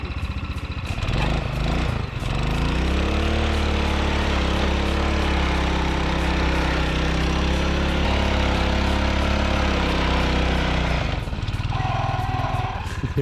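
Rokon motorbike engine laboring through about 20 inches of deep snow, a loud, steady buzzing drone close by that holds its pitch for most of the stretch before easing off near the end.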